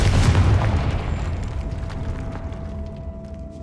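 Confringo fire spell blasting in Hogwarts Legacy inside a decayed catacomb: a single loud boom at the start, fading into a long rumbling tail with a faint tonal hum.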